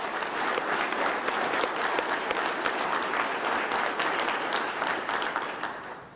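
Steady, loud applause from a large audience at a gathering honouring a co-op program figure in Oklahoma, dense clapping holding constant for about six seconds before tapering off at the end.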